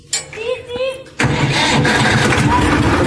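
An Escort tractor engine cranks and catches, then settles into a loud, steady diesel-like running roar; a voice speaks briefly before the start.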